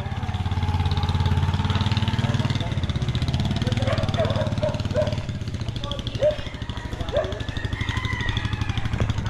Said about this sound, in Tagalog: Ang pogi ng motor mo ay.